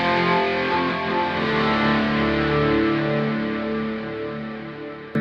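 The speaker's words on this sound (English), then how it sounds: "You only have the delay and the reverb." A sustained electric guitar tone through a Kemper Profiler, drenched in delay and reverb, with ringing notes smearing into a wide, continuous wash that slowly fades.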